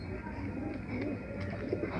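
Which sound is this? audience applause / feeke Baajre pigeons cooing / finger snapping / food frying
feeke Baajre pigeons cooing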